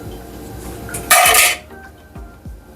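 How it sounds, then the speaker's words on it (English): A utensil scrapes and clanks in a pot of rice and peas during stirring. One loud burst of scraping is followed by a few lighter knocks. "That's how you stir up it like this."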